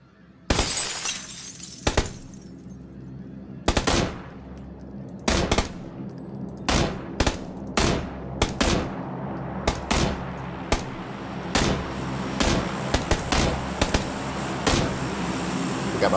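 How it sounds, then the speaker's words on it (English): Gunshots in the PUBG battle royale game: a series of sharp, loud single cracks and short bursts, irregularly spaced and coming faster toward the end, over a low steady background hum. "I'm gonna take shots at him."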